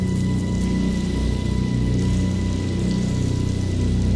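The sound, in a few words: rain falling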